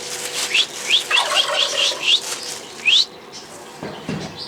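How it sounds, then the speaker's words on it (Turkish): A pigeon takes off with a flurry of wingbeats, a rapid run of short whistling flaps followed by one more burst, then quiet. "Uçmayan kuşu uçuruyoruz şu an."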